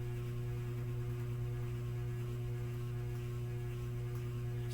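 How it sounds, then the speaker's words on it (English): Ceiling fan running steadily with a constant low electrical hum, an even drone with no change throughout and no talking. "watch how this fan spins"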